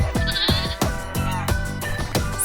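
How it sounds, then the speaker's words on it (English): Domestic sheep bleat repeatedly in a close, loud chorus of overlapping wavering calls, several animals sounding one after another with almost no pause between them. "Domestic sheep are quadrupedal ruminant mammals typically kept as livestock."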